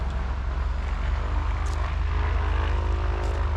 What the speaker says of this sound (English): right now behind me got some little plane, sounds like he's about to take off.